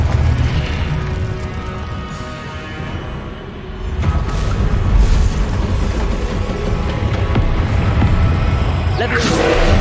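A Confringo blasting spell explodes in the video game Hogwarts Legacy amid busy combat: a dense, rumbling boom that swells partway through and sustains under a steady wash of battle noise.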